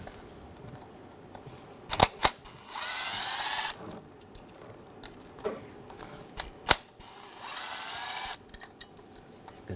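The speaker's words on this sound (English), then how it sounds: "On top, we're going to take these screws out, use a T30 socket." A hand ratchet with a T30 socket loosens screws on top of the engine of a 2006-2009 Mercedes-Benz E350 3.5L. Two sharp knocks lead into a rapid clicking ratchet burst, and the pattern repeats nearby.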